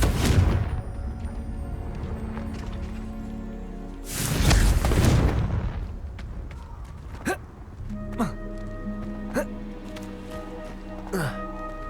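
Confringo fire spells blast in Hogwarts Legacy, giving two heavy booming bursts early on, then several sharper, smaller impacts over sustained game music tones.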